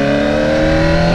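A Honda CBR motorcycle engine revving close up, a loud, steady, harmonically rich mechanical whine sustained through a brief burst with no talk.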